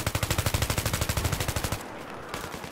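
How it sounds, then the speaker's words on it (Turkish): A Battlefield 3 machine gun fires a fast, steady stream of about twenty close, loud shots, then stops. Faint noisy game ambience carries on for the last second. "Adamı bir şarjör sıktım zor vurdum"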